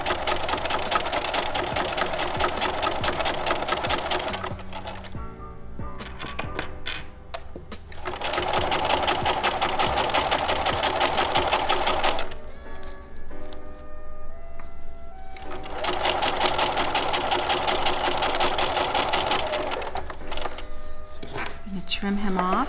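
A sewing machine runs a flat felled seam on heavier-weight fabric, its fast, even stitching rattle coming in three long bursts separated by short pauses, with a voice talking quietly in the gaps.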